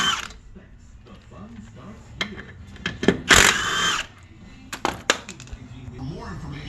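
A Ryobi power tool takes the wheel bolts off a Polaris Ranger crew side-by-side in several short bursts of whirring, with pauses and clanks between them and someone talking nearby.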